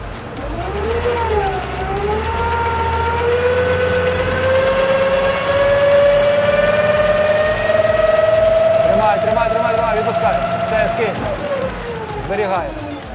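A loud tractor engine revs steadily upward from minimum idle during a power test, a rising mechanical whine with some background voices, then eases off near the end.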